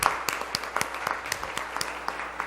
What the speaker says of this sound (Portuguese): Vamos dar uma salva de palmas para vocês que estão aqui